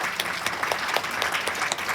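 Applause from attendees at a residents' council meeting, a steady dense patter of many hands clapping together at moderate loudness, continuous throughout.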